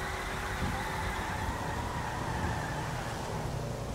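Continuous steady engine drone of a car cruising along in Helldivers 2, fairly quiet and even throughout, with no speech.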